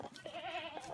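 A bloated, unwell baby goat gives a faint, wavering bleat lasting most of a second, quiet and close with no other sounds.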